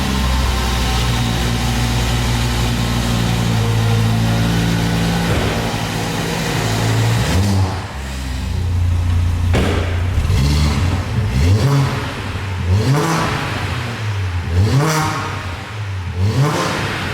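An Audi RS engine-swapped VW Caddy revs repeatedly while driving, rising and falling in pitch with each acceleration, loud and close throughout.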